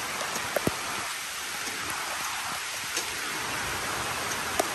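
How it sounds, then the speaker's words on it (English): Steady rain hisses down close by, with a few sharper drops tapping on a surface now and then. "Rain"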